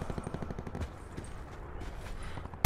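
Rapid gunfire crackles from a Call of Duty match, a fast burst of shots at mid distance ending in one loud close blast.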